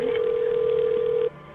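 Telephone tone during an emergency call being transferred to the ambulance service: one steady, loud electronic tone held for just over a second, then it cuts off, leaving a faint line hiss.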